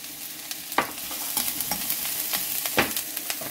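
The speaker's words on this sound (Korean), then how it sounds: "파기름을 내려고 그래요." Chopped scallions frying in oil with a little sesame oil, a close, steady sizzle punctuated by scraping stirs of a utensil across the pan.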